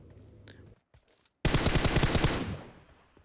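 A loud burst of rapid automatic gunfire from a battle royale shooting game on the Livik map rattles off close and sustained for about a second, after brief quieter game sounds.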